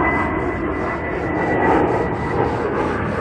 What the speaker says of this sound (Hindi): फिर से हवाई जहाज आ गया